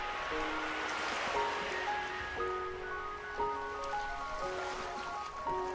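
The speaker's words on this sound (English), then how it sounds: "Oh, listen to the sound of the waves." Ocean waves washing onto a shore in a video game, a steady broadband wash under a light, gently shifting musical tone pattern, even and fairly close throughout with no talk.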